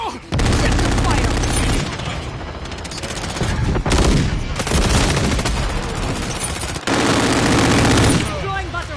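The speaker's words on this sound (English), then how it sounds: "Confirmed. Taking fire. Oh, taking fire." Loud, near-continuous automatic gunfire in the video game Modern Warfare 3, sustained bursts with brief gaps, under clipped in-game radio voice lines.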